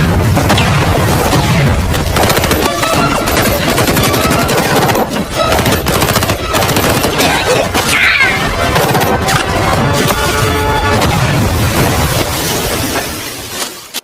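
Tripwire mine traps exploding in a war film scene, a dense, loud barrage of blasts, crashes and rapid gunfire layered with score and debris, continuous for most of the stretch before tailing off.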